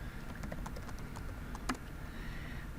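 Fingers type on a computer keyboard in quick, light, irregular keystrokes close by, ending with one slightly louder press over a quiet room hum.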